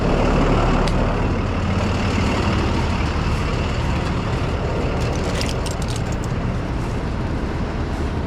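Tow truck diesel engine idling on a roadside recovery scene after being taken off high idle, a steady broadband rumble running continuously and fairly loud throughout with no talk.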